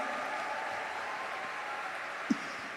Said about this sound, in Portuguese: Vocês não vão nem dar uma salva de palmas para Moisés e para a Emi